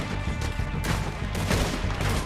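Gunfire in Red Dead Redemption 2, a headshot on a locked-on enemy: two or three sharp, moderately loud shots over a steady game background.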